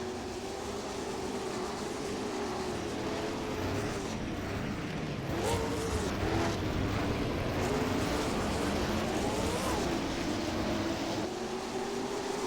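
Late model stock cars roaring together on a restart at Jefferson Speedway, a dense wall of engine noise with rising and falling pitches as the pack accelerates, steady and loud throughout with no talk.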